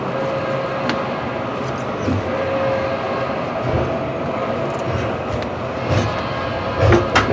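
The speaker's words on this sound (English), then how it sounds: "Those trains are still moving pretty good." A train rumbles along steadily at a railroad museum roundhouse, a continuous low rolling noise with faint clicks and a few light knocks over several seconds, no talking.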